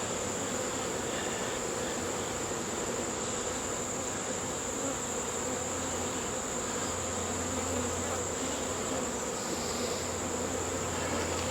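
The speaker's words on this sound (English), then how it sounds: "I would have to imagine there's a queen in here somewhere with this many bees." A swarm of honeybees clustered under a hive's screened bottom board, making a dense, steady buzz that fills the whole stretch, close and unbroken.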